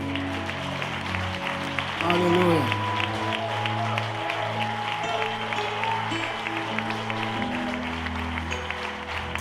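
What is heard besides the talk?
church congregation applauding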